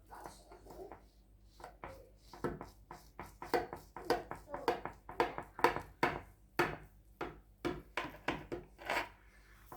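Knife slices through a baked hachis parmentier in a rhythmic series of soft scraping, rubbing cuts, close and moderately loud, a dozen or more strokes in a row.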